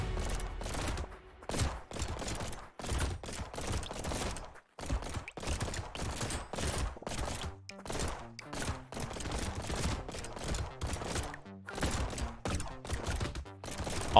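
Pistol gunfire in a video game rings out in rapid, uneven bursts of sharp cracks, dense and repetitive over several seconds with brief gaps, and no talking over it.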